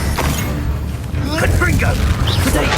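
A spell cast during combat in the video game Hogwarts Legacy: a loud, dense magical burst with a booming rumble that runs through the whole clip, under a character's voice.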